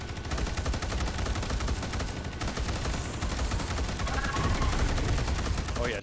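Sustained rapid automatic gunfire in a video game, dense and loud, rattling continuously with barely a pause, with faint speech beneath the barrage.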